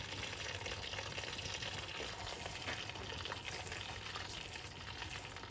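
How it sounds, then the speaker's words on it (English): Salted fish frying in palm oil in a pan, a steady dense sizzle and crackle that holds evenly throughout with no talk. "I will leave the salted fish to fry with my palm oil for like 2 minutes"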